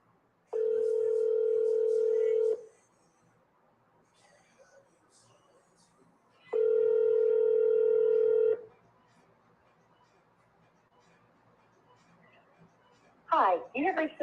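Two long telephone ring tones sound at an even interval with a quiet pause between them while nobody picks up, followed by a brief burst of noise at the end.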